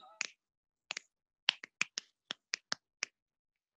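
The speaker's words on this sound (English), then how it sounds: "You gotta snap while you're doing your faces." Sharp finger snaps, about a dozen in quick irregular succession, close and crisp against near silence.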